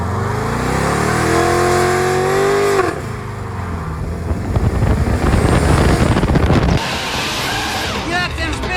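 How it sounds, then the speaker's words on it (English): An LS-swapped muscle car revs hard and spins its tires, a loud roaring engine with rising and falling pitch, tire scrub and wind buffeting the microphone; the engine dominates throughout. "Goddamn spinning tires?"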